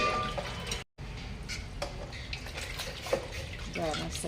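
Potato slices being washed in a basin of water for homemade wafers, with steady splashing, dripping and occasional clinks at close range, under people talking.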